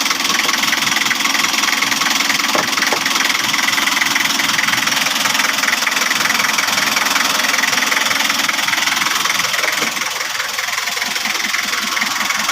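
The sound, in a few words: engine running after overhaul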